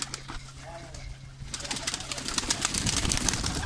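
Pigeons coo from a rooftop loft in a rural village, a low steady cooing tone that fades, followed by louder, busier rustling and scattered bird sounds near the microphone.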